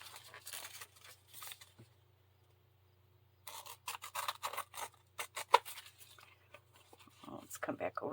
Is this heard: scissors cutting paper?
yes